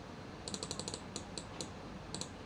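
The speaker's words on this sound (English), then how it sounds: "Let's type in a tutorial." Typing on a computer keyboard while setting up a Garry's Mod server, heard as short quiet bursts of clicking keystrokes in a few uneven clusters, close up and with no talking.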